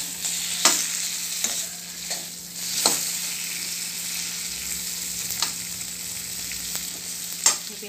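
Okra (bhindi) roasts in a little oil in a pan with a steady soft sizzle, punctuated by occasional sharp scrapes and clicks of stirring, no voices.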